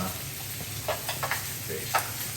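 Steak searing in oil with a couple tablespoons of butter while being basted, a steady close sizzle with spoon scrapes and a few sharp spatters and clinks.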